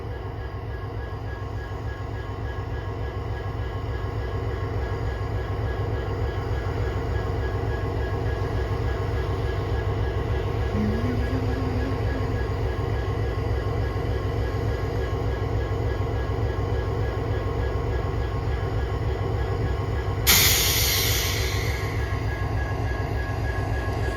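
CN locomotive 5405 backs a freight train slowly and steadily while switching in Pembine, a low continuous rumble and rhythmic wheel clatter, with a brief metallic squeal near the end.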